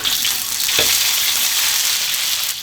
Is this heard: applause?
no